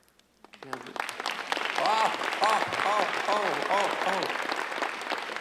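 Audience at a 2015 peace of mind conference bursting into applause after a talk, clapping rising from quiet to a loud, sustained roar, with a voice speaking over the clapping.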